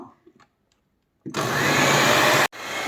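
An electric mixer beating eggs and sugar for a semolina cake, switching on after a near-silent start with a steady loud whir, cutting off briefly, then running again, close.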